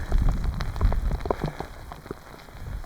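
Rain patters on a surface in dense, irregular drops in Ireland, fairly faint and steady, with no voices.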